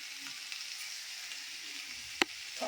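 Urad dal and cumin seeds fry in a pan, a soft, steady sizzle and hiss with one sharp clink of a utensil near the end.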